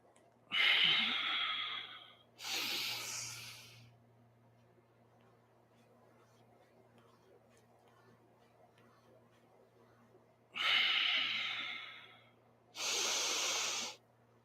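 Rapid forceful breaths during a Kundalini yoga kriya, heard close up in four loud bursts of quick pumping exhales, two early and two late, separated by a long quiet stretch.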